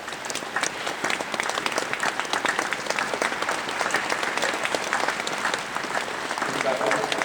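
Sustained crowd applause fills an arena during a horse-training demonstration in Helsinki, dense and steady from start to finish while a voice speaks over it.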